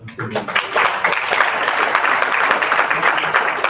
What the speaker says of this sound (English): So if we could just all give a big round of applause to these amazing individuals in our SPED department